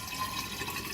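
Clove mouthwash poured through a strainer into a pitcher, a steady close trickling and splashing of liquid running without a break for just under a second.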